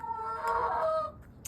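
Backyard chickens give a short burst of clucking, a couple of close, throaty calls run together over about a second before trailing off.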